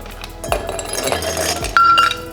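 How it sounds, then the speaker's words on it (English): Ice cubes clinking and tumbling into a glass for an elderflower gin and tonic, a few bright clattering knocks close up, then a louder ringing clink near the end. "fill your glass up with ice because it needs to chill"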